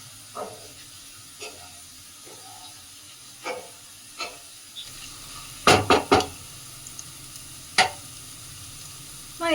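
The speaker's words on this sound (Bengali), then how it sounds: "আলুটা ভাজা হয়ে গেছে" Potatoes fry in oil with panch phoron in a pan, a soft steady sizzle broken by sharp scraping stirs, loudest in a quick cluster midway.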